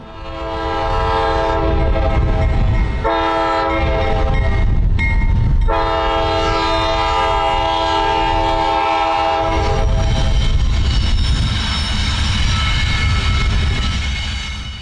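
A CSX freight train led by EMD SD40-2 locomotives passes close by, its loud multi-chime horn blaring in long blasts over a heavy diesel roar and rumbling railcars, with no voices.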